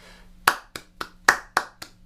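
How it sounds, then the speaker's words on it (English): Sharp hand claps in a steady swung Texas shuffle rhythm, triplets with the middle clap left out, seven claps over about two seconds, close and crisp with a low hum underneath. "But we take out the middle clap in each triplet."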